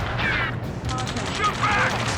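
Rapid bursts of gunfire in the Ace Combat 7 video game, dense and continuous over a low rumble, with a voice partly audible in the mix.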